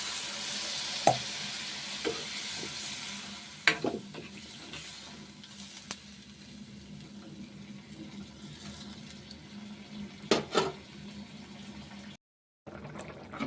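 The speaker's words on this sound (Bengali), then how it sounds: "সবজিগুলো কি সুন্দরভাবে ফ্রাই হয়ে গেছে এখন আমি জল দিয়ে দিচ্ছি" Kohlrabi and potato vegetables fry in a pan as water is poured in, giving a steady sizzle with a few louder hissing bursts and clinks of stirring.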